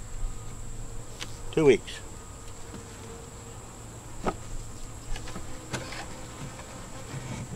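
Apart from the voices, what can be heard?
bees buzzing around an open beehive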